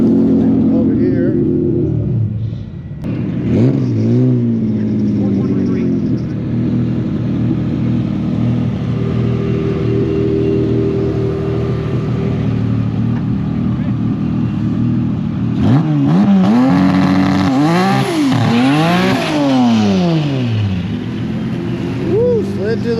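Race cars accelerate hard through a qualifying run against a Nissan GT-R at a speedfest, with loud sustained engine roar and rising, sweeping revs through gear changes, growing more intense near the end.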